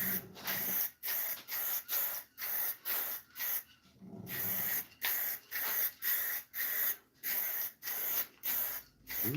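Lacquer sprayed onto a wooden box, likely turning on a small lazy Susan: a series of short hissing spray bursts in a steady rhythm, about a dozen pulses with brief pauses, close and fairly loud, no talking.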